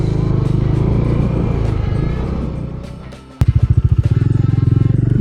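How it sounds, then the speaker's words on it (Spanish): Motorcycle engine in first gear being throttled up gently as the clutch is let out, a steady low rumble that dips and then settles into a loud, pulsing idle-like putter close by. "primera, voy a acelerar despacio, quitar embrague y la moto va yendo hacia adelante"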